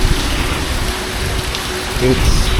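Heavy typhoon rain during Typhoon Fung-wong in Bicol pours down in a dense, steady hiss. Short bursts of wind or rattling stand out near the end, and faint voices can be heard in the background.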